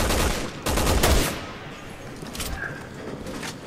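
A burst of gunfire from Resident Evil 6 on the PS3 rattles loudly in the first second and a half, then drops to quieter, scattered shots and ambient game noise.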